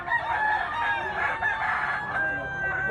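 A yellow-legged bullstag rooster crows nearby in one long drawn-out call, with faint clucking and farmyard background noise.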